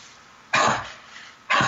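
A dog coughs twice, each a short harsh burst about a second apart, loud and close, with quiet in between.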